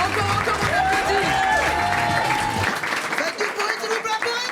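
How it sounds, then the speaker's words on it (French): A comedy club audience applauds and cheers loudly, with thick clapping and crowd noise that thins out and grows more scattered toward the end. "Faites un maximum de bruit pour la prochaine, s'il vous plaît."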